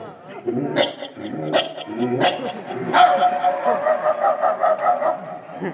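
A man imitates dog barks, starting with small yelping puppy cries and moving to deeper, grown-dog woofs in a quick series of close, loud calls.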